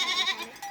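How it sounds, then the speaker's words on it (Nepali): A goat gives one short, close bleat with a wavering, nasal tone, alone and quite clear. "ल साथी हो हाम्रो दुई घरको बाख्रा"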